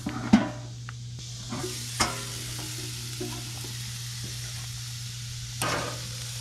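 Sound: ribeye steak sizzling on a two-burner camp stove

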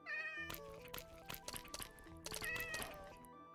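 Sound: cat meowing in Minecraft video game

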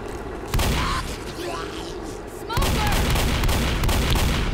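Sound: gunfire in video game Left 4 Dead

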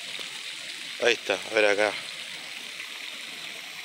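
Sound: Catonas stream flowing water

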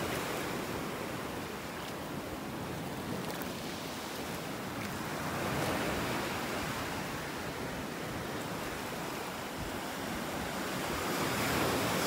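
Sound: ocean waves on beach in North Naples, Florida

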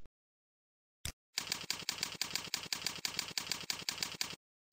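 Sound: typing on a computer keyboard

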